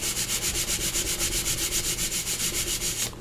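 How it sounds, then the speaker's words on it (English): Paper edge being trimmed for a handmade Christmas tag journal, a rapid, evenly pulsed rasping scrape repeating about seven times a second, close and steady, then stopping abruptly. "I'll just trim that off."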